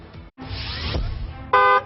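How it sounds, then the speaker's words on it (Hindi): On a busy Indian road, traffic rumble and passing-vehicle noise lead up to a single short, loud car horn honk near the end. "सावधानी वाला हॉर्न बजाया जाए।"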